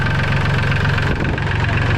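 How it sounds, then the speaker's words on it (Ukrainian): The small Mitsubishi diesel engine of a Solis 26 mini tractor runs steadily nearby, a loud continuous rhythmic chugging rumble with no voices. "Мотор робить дуже класно."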